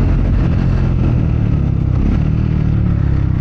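Triumph Scrambler 400X motorcycle with a single-cylinder thumper engine revving: a loud, deep, bassy engine rumble runs steadily throughout, close up and without speech.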